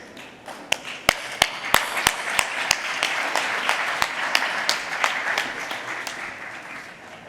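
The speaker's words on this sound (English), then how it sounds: "let's give all of our awardees a huge round of applause" Scattered applause from a small audience at an awards ceremony, individual sharp claps ringing out in an uneven rhythm over a softer wash of clapping.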